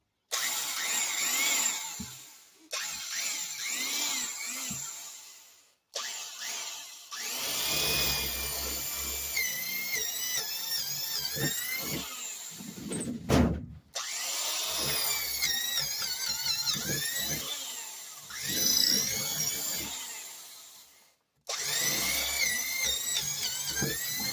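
A vintage Sears electric drill whines through wood at close range in long bursts, its pitch rising and sagging under load, with brief pauses between runs.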